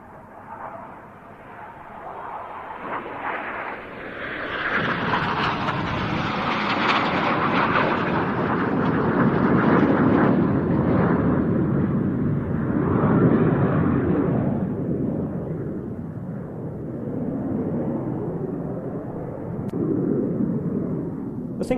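An aerobatic jet formation flies a flag roll trailing coloured smoke at an airshow; a loud jet roar swells to a sustained peak around the middle, then eases back, rumbling throughout.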